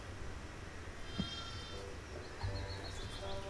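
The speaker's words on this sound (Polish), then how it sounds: "czy to jest mała koza?" A small goat bleating in the video game Gothic II: Legend of Ahssûn, giving a couple of short, fairly faint bleats over a low background hum.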